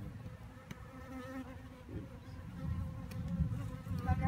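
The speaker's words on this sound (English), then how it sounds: "The only bee in the hive." A single bee buzzes steadily and close in a hive overrun by small hive beetles, the droning hum continuing alone without talk and growing slightly louder toward the end.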